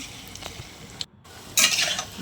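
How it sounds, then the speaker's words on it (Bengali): Lentil balls fry in oil in a wok with a soft, uneven sizzle and light stirring scrapes, a short drop to near silence midway, then a louder burst of hissing crackle. "তারপর কড়াইতে তেল দিয়ে ডালগুলো গোল গোল করে ছেড়ে দিলাম।"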